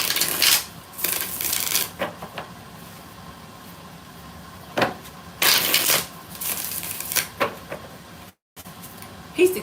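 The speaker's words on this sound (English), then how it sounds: "Cynthia, 6 shuffles." Tarot cards being shuffled, several distinct riffling bursts separated by pauses, close and fairly loud, with small handling clicks and rustles in between and no talk.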